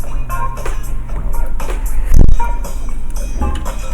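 A sample from a song, the track later sampled for another song, plays loud and full with a steady groove and punchy low hits, and no talking over it.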